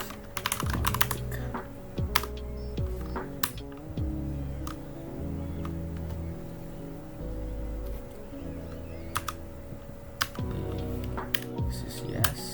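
Steady computer keyboard typing with quick irregular key clicks and occasional louder taps over a constant low electronic hum, close and continuous throughout, while setting up an SSH config file in a Proxmox demonstration; no speech.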